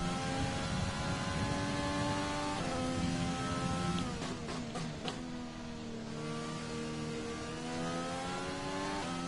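A Formula 1 car in the F1 2020 racing game, qualifying at Bahrain, drones with a continuous engine tone that shifts pitch through gear changes and a dip mid-lap, steady and fairly loud with no talk.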